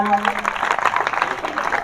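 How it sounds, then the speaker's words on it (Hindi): Schoolchildren applaud a model satellite launch, a lively mass of clapping hands that starts right away and carries on steadily, with a brief tone and some voice mixed in at the start. "जोरदार तालियां"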